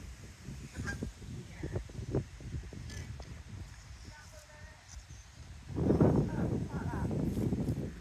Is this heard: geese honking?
yes